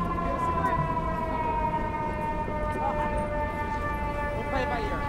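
Fire trucks on a New York City street in Floral Park, Queens, sound loud sustained wailing sirens with layered overlapping tones over traffic rumble, and someone talks over them.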